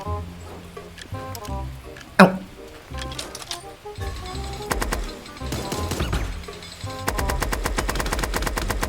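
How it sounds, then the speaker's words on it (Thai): Machine gun fire in the video game Super Animal Royale comes in rapid bursts, with a single loud shot early on and dense volleys toward the end, under a voice talking. "โดนแมชชีนกันเต็ม ๆ"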